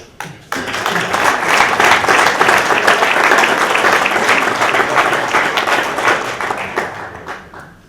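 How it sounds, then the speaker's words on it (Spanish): Loud applause from a crowd at an annual meeting in Madrid, starting abruptly, holding a dense, steady roar of clapping for several seconds, then fading toward the end. "Aplausos."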